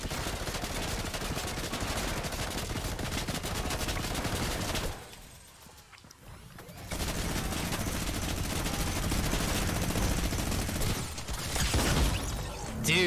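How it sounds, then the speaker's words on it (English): Brutus minigun firing in Fortnite Battle Royale, a loud continuous rapid-fire roar that drops out briefly midway, then resumes and runs to the end. "that Brutus minigun is insane"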